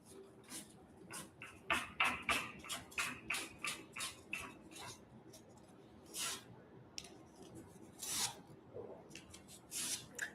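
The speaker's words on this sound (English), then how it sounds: "There's no harm in removing a little extra felt as long as the hammer has enough felt left on it." Felt is filed off upright piano hammers in quick rasping strokes, a rhythmic series of close, soft scraping sweeps with short gaps, some strokes louder and longer than others, faint and with no talk.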